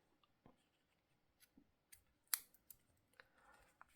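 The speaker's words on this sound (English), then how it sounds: "just cut your yarn" Scissors snip through yarn after finishing a crocheted Easter egg, a single sharp close cut standing out amid faint scattered handling clicks in a quiet room.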